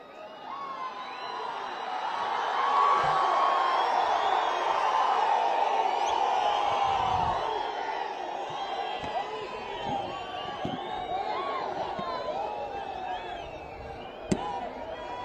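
A large crowd at a political rally applauds and cheers to welcome speaker Lokesh, a dense, steady wash of clapping and crowd noise that swells early and then holds at a slightly lower level.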